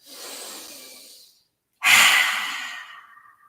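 Two deep breaths during a yoga session: a long, soft airy inhale fading out, a short pause, then a stronger, fuller breath that swells suddenly and tapers slowly, close and alone.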